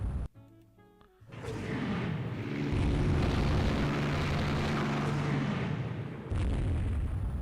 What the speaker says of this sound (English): we hit the enemy ship Verite with a torpedo